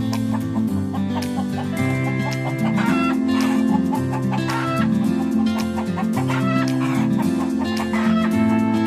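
Hens clucking steadily in a farmyard by a chicken coop, a busy, continuous run of close clucks and squawks with no talk over them.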